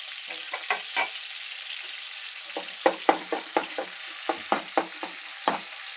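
Ginger garlic paste fries in a pan while being stirred, giving a quiet bed of sizzle broken by a series of short, sharp crackles and spatters, some clustered close together, with no voices.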